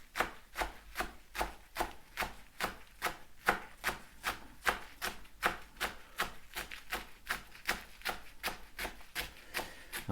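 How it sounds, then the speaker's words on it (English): A knife slicing an ingredient thinly on a board, producing a steady, even rhythm of close crisp cuts, about two per second, with no talking. "just give it a good old slice as thinly as I can"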